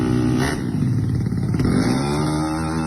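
Motorcycles revving at an illegal street race, with a loud, close engine drone held steady for a few seconds and a brief clatter partway through.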